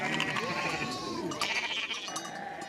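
Goats and sheep bleat at a livestock vaccination in Loro sub-county, Amdat district. Several wavering calls overlap at close range over a busy background.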